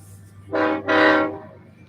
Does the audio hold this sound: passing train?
yes